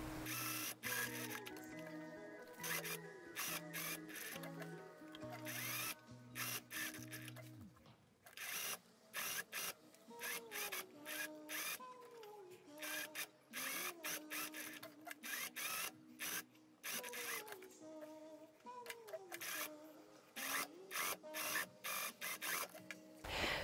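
A sewing machine bastes the seams of a dirndl in repeated short bursts of mechanical stitching, close and fairly loud, with brief pauses between runs and music playing throughout.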